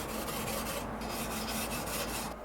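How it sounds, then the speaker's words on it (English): A scraper rasps back and forth across hot Weber Q grill grates, a close, steady series of rhythmic scraping strokes about six times per second. "you want to get your scraper and scrape these grates nice and clean"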